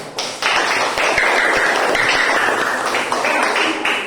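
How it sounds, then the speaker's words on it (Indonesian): Students in a classroom applaud a presenting group, a burst of brisk, sustained hand clapping from many people nearby that runs steadily for several seconds before tapering. "kalau pas kita berikan tepuk tangan untuk kelompok 1"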